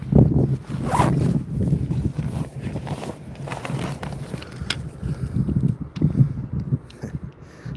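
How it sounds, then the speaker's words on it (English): A zipper on a backpack is tugged open in several rough rasping pulls outdoors while gold prospecting in Alaska, close to the microphone amid wind noise and shuffling. "All these new age backpacks have so many zippers"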